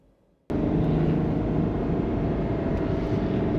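A Ferrari 12Cilindri Spider's 830 hp V12 fires up suddenly from near silence into a loud, sustained, dense engine roar held close by until the end.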